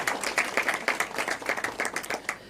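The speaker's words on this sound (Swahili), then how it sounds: "Naomba tupigie Waziri Murkomen makofi kidogo." An audience claps steadily in a quick, even patter for a Cabinet Secretary at a prison officer cadets' pass-out ceremony in Ruiru, sustained and fairly close, with no talk over it.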